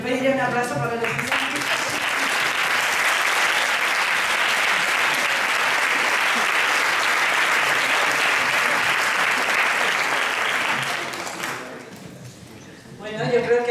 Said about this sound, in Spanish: Yo pediría un aplauso para el equipo.